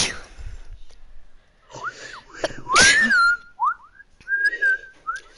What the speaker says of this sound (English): Stop whistling.